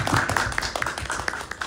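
Audience applause at a film screening with a post-screening talk, close and fairly loud, made of scattered individual claps in an uneven rhythm over a brief span.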